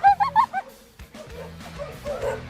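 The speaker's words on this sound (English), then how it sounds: "And Lummy, you've heard her bark many a time." Bella the dog lets out a quick series of high, warbling yips in an odd, monkey-like voice, loud at first, then trailing into softer, murmuring vocal sounds.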